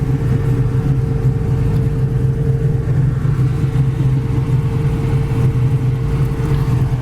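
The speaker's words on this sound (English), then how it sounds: "The stroker motor's got a nice big cam in it." A 1970 Plymouth Cuda with a stroker motor, big cam and headers idles steadily, a loud, close, deep rumble with an even throb and no revving or speech.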